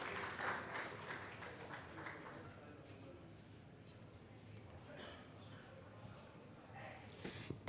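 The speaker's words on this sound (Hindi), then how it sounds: "ज़ोरदार तालियों से स्वागत करें।" Audience applause welcoming a keynote speaker at a student parliament event in Bihar, a fairly faint, steady patter of clapping that swells briefly at the start and near the end.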